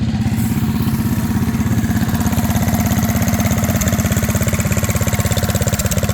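A stock 125cc minibike engine with a homemade aftermarket exhaust pipe runs loud and close at a minibike race event, giving a steady rapid chugging putter that barely changes throughout, with no talk.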